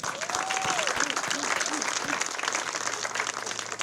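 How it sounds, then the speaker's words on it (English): A crowd applauds at the grand opening of an ArchWell Health clinic, a loud, continuous roar of clapping with a voice briefly cutting through near the start. "So we're going to give them a big round of applause."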